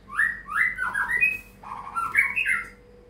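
A long-tailed white-rumped shama (murai batu) in a hanging cage gives loud, close, rising squawky whistled calls in a repeated run of phrases, a brief pause, then another burst.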